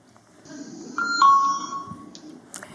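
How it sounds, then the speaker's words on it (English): A ticket scanner gives a doorbell-style alert: a soft two-tone electronic chime rings once over faint background murmur, clear and moderately near. "So we've chosen the sound of a doorbell for our new-to-files."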